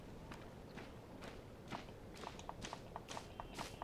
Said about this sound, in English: With these very loud footsteps.